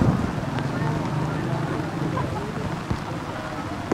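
Steady rain and wind hiss outdoors at a tournament in Bogor, a dense continuous wash of noise with occasional low gusts.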